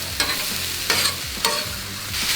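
Rice with butter and sesame seeds is mixed on a hot Pit Boss griddle: a continuous sizzle broken by three sharp spatula scrapes at a steady pace, close up and with no talking.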